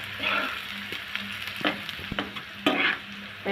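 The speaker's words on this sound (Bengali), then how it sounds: "দেখুন আমি নেড়ে চেড়ে পেঁয়াজটা নরম করে নিচ্ছি ভেজে।" Chopped onion sizzles and fries in a pan, with a steady crackle broken by repeated scraping and knocking strokes of a stirring spoon.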